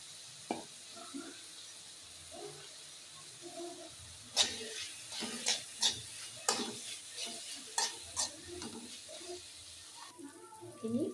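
Crushed garlic, ginger and green chilli paste sautés in a pan for an egg curry, with a faint sizzle under repeated scraping and clicking stirs of a spoon at an irregular pace.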